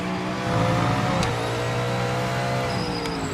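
A V8 or V10 race car engine in Project Motor Racing revs hard, its harmonic note climbing and then dropping with a quick shift before rising again, loud and close with no voices.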